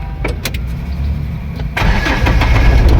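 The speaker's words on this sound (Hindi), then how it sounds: "अब जो है कि गाड़ी स्टार्ट करिए।" A Mahindra Bolero pickup's engine cranks briefly, then catches and settles into a loud, steady idle rumble close by, with no one talking.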